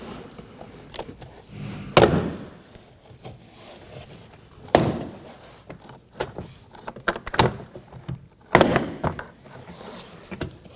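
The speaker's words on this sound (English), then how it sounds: "Now to remove the door panel, pull away from the bottom corner to undo the clips." Door panel clips on a 2020s Toyota Corolla rear door pop loose one after another in sharp, loud cracks, spaced a couple of seconds apart, with softer plastic creaks and rattles between them.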